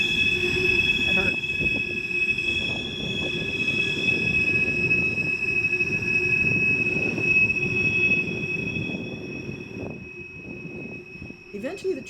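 Loud, piercing wheel squeal from a train rounding Horseshoe Curve, sustained high tones over the rumble of rolling railcars, continuing for the whole stretch without speech.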